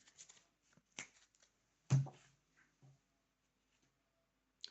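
Tarot cards handled on a table, a few quick riffling shuffles and soft slaps as a card is drawn, quiet and sparse with gaps of near silence.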